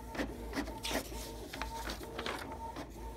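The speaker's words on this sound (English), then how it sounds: "We stop the printing and see where the black started fading." A Canon inkjet printer runs a page, its print head shuttling back and forth in a steady rhythm of whirring passes and clicks, close and fairly quiet, with no talk.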